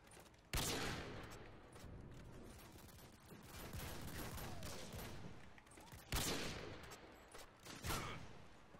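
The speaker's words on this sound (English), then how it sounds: "I literally just trickshotted right now and shot in every single direction possible so I could see if I could hit somebody" Gunfire in Call of Duty: Modern Warfare 2 comes as sharp, loud shot bursts, two standing out strongly, with continuous firing and game noise between them.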